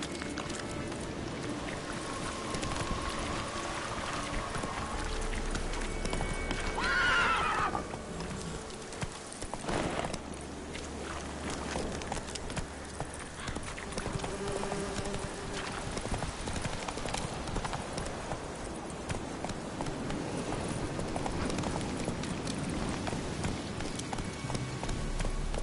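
Hooves of the horse Roach from The Witcher 3 trot in a steady, close clip-clop rhythm that runs throughout. Faint outdoor ambience sits underneath, with brief voice sounds.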